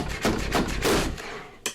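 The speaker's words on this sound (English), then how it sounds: "It's a lot of paper for even the guillotine to cut through." A paper guillotine cuts through a thick stack of paper: a series of heavy, sharp chopping thuds in quick succession, ending in one last crisp strike, loud and close.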